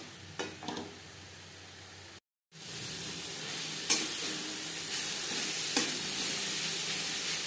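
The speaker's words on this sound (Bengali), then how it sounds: "চার 5 মিনিট মিডিয়াম ফ্লেমে শাক বেশ ভালো করে ভেজে নিয়েছি" Radish greens stir-fried in a pan over a medium flame, a steady close sizzle with occasional scraping stirs, broken by a brief silent gap near the start.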